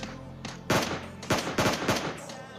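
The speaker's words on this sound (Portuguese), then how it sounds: "Tomando tiro daqui." Gunfire in the mobile battle royale game PUBG Lite: several loud, sharp bursts of shots in quick succession, with ringing tails between them.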